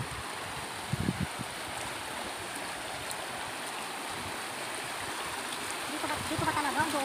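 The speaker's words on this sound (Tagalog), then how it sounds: "Tatawid kami ngayon sa ilog." River water rushing and flowing steadily during a river crossing, a constant broadband wash with a few brief splashes, no clear talk.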